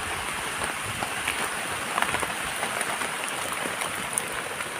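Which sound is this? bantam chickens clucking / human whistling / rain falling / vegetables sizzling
rain falling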